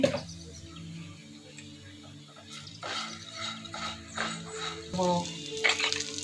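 Ghee sizzling in a pan while rice pulao cooks, a soft continuous crackle under a low steady hum, with scraping and stirring knocks through the middle and end.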